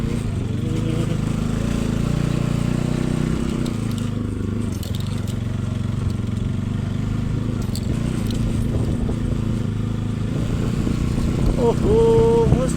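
An NS motorcycle engine drones steadily while riding over a rough, damaged road, a loud continuous rumble with rattling and bumps throughout.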